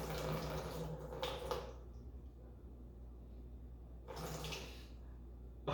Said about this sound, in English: So the water just bounced off from the shoe after hitting the surface